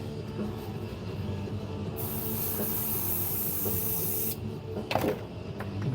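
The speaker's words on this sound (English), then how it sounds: "I better test this out, make sure she's gonna spray." Hissing airbrush spraying black paint bursts on and off over a steady mechanical hum, with a brief clatter near the end.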